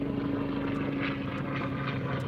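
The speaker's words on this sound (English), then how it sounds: "There's a helicopter flying overhead." A helicopter flies overhead above a boat, its steady engine drone and rotor hum filling the background at moderate level without interruption.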